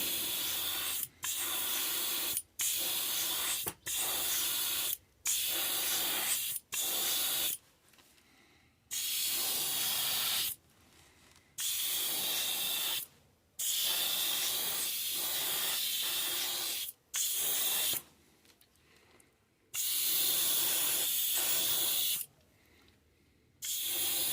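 A compressor-fed airbrush sprays a coat of silver paint onto a small figure in repeated short bursts of hissing air, each a second or two long, separated by brief pauses, close and fairly quiet.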